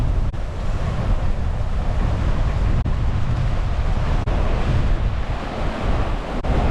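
Ocean waves and strong wind buffet a sailboat crossing the North Atlantic, a steady loud roar of surf and wind noise on the microphone with no break and no voices.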